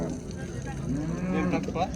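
Cattle low in long, drawn-out moos at a busy livestock market, the calls rising and falling at moderate distance, set against steady crowd murmur and people talking.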